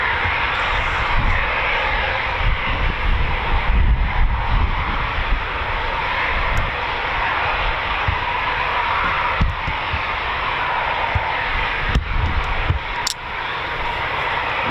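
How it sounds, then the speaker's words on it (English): Two Eurofighter Typhoon fighter jets of 11 Squadron flying over RAF Coningsby, heard as a steady, loud, broad engine roar that holds for the whole stretch without clear peaks. "Okay, so we have a flight of 2. 11 fighter squadron."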